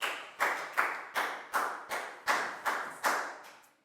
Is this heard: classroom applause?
yes